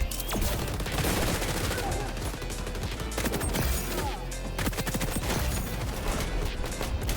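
Rapid, continuous automatic fire from a P90 submachine gun in the shooter game XDefiant rattles loudly throughout, with dense overlapping shots and battle noise.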